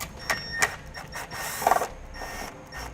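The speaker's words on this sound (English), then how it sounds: "we'll go ahead and grab a Phillips screwdriver and pull that out." A Phillips screwdriver backs out a screw during tail light wiring work on a towed vehicle: faint close clicks and scrapes of the screw turning, with small irregular taps.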